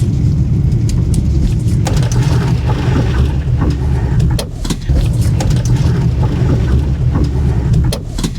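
A Rover Classic Mini drives along with a steady, close engine drone and road rumble that stays loud throughout, briefly dipping midway.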